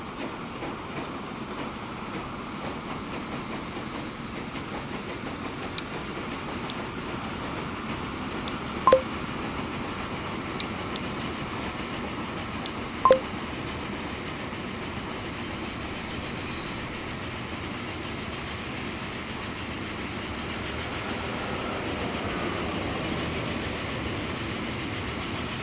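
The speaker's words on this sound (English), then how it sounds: "Oh, maybe he had to wait for that oil train." Trains run steadily in the Transport Fever 2 railway simulation game, a continuous low rumble of rolling wagons with faint wheel squeal and a couple of brief clicks, no voices.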